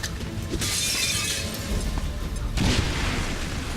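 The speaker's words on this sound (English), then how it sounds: "Throwing grenade." A grenade explodes in XCOM 2 with Long War 2, loud and close, and the shattering crash and booming debris hit twice before settling into a rumble. No one speaks.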